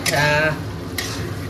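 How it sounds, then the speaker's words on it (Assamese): Onion, ginger, garlic and tomato frying close up in a pan, a sizzling hiss with quick stirring scrapes and a brief voice at the start. "পিঁয়াজ আদা নহৰু বিলাহীখিনি ধুনীয়াকৈ আমাৰ ফ্ৰাই হৈ আছে"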